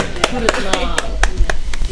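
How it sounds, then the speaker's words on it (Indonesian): Rhythmic applause for a junior high school group, steady close claps about four per second, with a voice talking over it. "Oke, tepuk tangan untuk"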